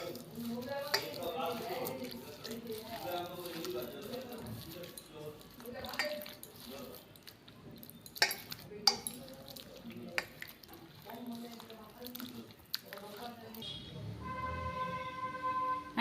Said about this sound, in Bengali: এই দুধটা অল্প অল্প করে দিয়ে একটা সুন্দর পাতলা ব্যাটার তৈরি করব